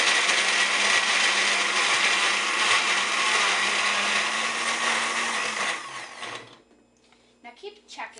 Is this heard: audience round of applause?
no